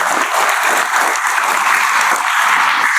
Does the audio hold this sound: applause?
yes